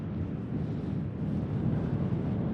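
Strong wind buffets the microphone at an exposed coastal lookout on the Isle of Skye after sunset, a continuous low roaring rumble that stays loud and steady throughout, with no voices.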